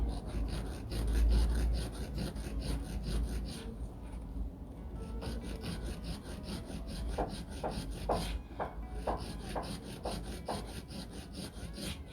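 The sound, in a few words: filing a polygel nail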